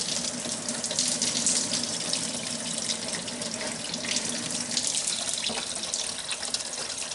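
Antifreeze draining out of a 1962 Comet, a steady, faint splashing and trickling stream of liquid that runs without a break throughout.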